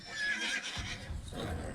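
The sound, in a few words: horse neighing in TV show Dune: Prophecy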